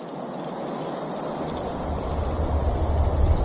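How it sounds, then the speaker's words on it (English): Cicadas in the New Zealand countryside around Wellington make a constant high, shrill buzz that stays steady throughout, with a low rumble rising underneath toward the end. "Wow, those cicadas,"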